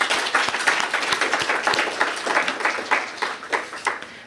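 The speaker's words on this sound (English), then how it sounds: "Can we please give him another round of applause?" Audience applause at a book talk, a dense patter of many hands clapping that rises and dips steadily throughout, fairly close and with no voices over it.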